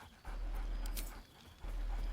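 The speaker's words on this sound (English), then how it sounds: "barks merrily in something like agreement" A dog in the Baldur's Gate 3 video game panting and giving a soft bark over a low game background hum, fairly close and at moderate loudness, with no talking.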